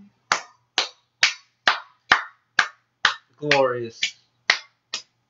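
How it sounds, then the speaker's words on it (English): A single person claps their hands in a slow, evenly spaced rhythm, about ten sharp claps close to the microphone, with one brief spoken word breaking in partway through. "That was my clapping my hands."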